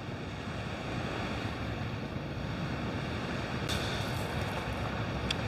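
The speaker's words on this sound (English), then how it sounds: "right now I'm at the beach" Waves on a beach heard as a continuous broadband wash of surf and wind, steady and fairly loud throughout, with no speech.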